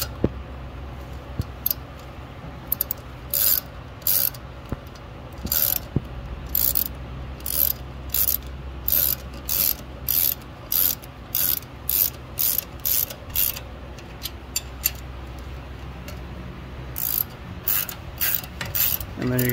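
Car wheel lug nuts being tightened with a hand ratchet, giving repeated bursts of close, crisp clicking in an even rhythm with short pauses between strokes.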